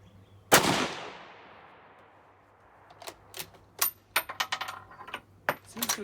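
A 1917 U.S. Enfield rifle fires one loud, close shot that rings and decays, followed by a quick series of sharp metallic clacks as the bolt is worked and the spent cartridge is ejected.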